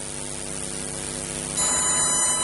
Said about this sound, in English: this is the sound of the plasma, in fact